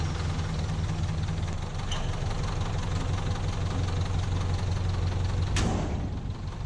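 A junkyard Datsun engine runs steadily at idle with a low, rough, continuous rumble and knocking pulses, loud and close, with no voices over it.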